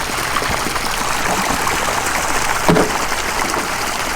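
Hot water trickling into a small pond-side pool from a campfire water heater, a steady close bubbling flow with a brief splashy burst partway through and no voices.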